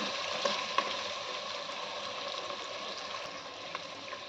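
Pieces of goat leg meat frying in a pan for mutton paya, a steady continuous sizzle with a few faint pops and clicks, close and fairly quiet with no talking.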